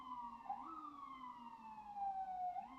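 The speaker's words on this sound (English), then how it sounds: "Why are there so many sirens today?" A siren wails outdoors, rising and falling in a slow sweeping tone, heard faintly from a distance with no talking over it.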